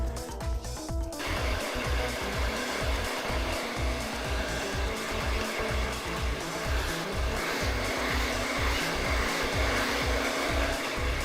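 A hair dryer runs continuously during a child's haircut with a loud, steady whooshing hum, close by, its airflow fluttering slightly as it moves, with no voices.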